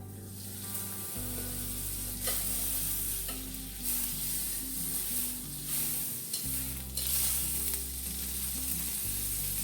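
A good chunk of butter sizzles in a hot frying pan, a continuous close crackling hiss with scattered pops, running over a low droning tone that shifts in pitch underneath, with no voices.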